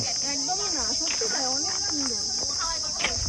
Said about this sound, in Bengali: শান্ত একটা পরিবেশ আর একটা ঝিঝি পাখির ডাক শোনা যাচ্ছে